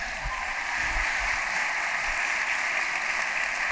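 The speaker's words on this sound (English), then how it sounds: "why don't we have a huge cheer for the whole team who have helped put it together and support us" A large conference audience at an event claps and cheers in a steady, dense wash of sound that holds at full level throughout, with no voices rising above it.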